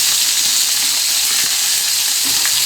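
Mung beans sizzle loudly on a grill pan, a dense, continuous crackling hiss up close with faint scraping underneath.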